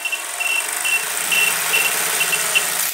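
A homemade Lego electric motor spinning at 30 volts, a steady high whine with faint intermittent squeals and a light buzzing rattle, close and continuous.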